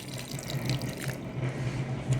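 Water poured into a sayadieh fish-and-rice spice mixture to thin it, a steady close liquid trickle and splash running continuously for a couple of seconds with no voices.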